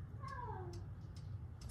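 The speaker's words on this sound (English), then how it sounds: "It's my cat's talking." A pet cat meows once with a clear, rising-then-falling call near the start, faint and fairly close, over a quiet room hum, followed by a few soft clicks.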